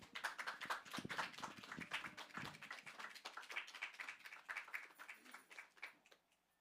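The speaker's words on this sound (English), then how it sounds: "We give them a round of applause." Audience applause for performers at a benefit concert for the Middle East, dense clapping at close range that thins toward the end and fades out.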